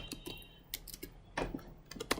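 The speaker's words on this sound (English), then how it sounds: "I'm just going to come here and type stock market" Someone typing on a computer keyboard, close and fairly quiet: a quick, uneven run of light key clicks and taps in short bursts, with no talking.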